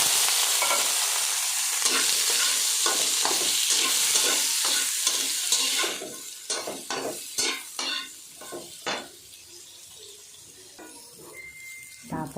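Chayote stir-frying in a pan, with a loud, steady sizzle for several seconds that eases into quieter, intermittent scraping and stirring clatter near the microphone.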